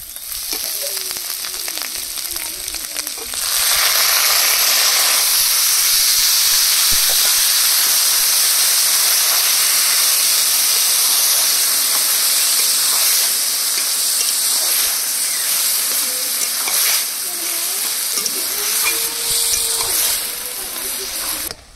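Loud, steady sizzling of greens in hot oil, a bright hiss that swells and holds, with a voice speaking briefly over it.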